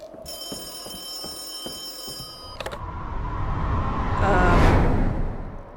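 A telephone in the horror game Charon's Staircase rings with a bright, trilling bell for a couple of seconds, then stops abruptly and gives way to a rising, rushing whoosh.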